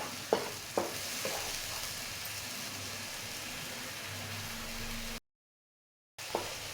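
Onion, pepper, garlic and tomato frying in a pan, a steady close sizzle with a few sharp stirring clinks near the start, a brief gap, then another spoon knock.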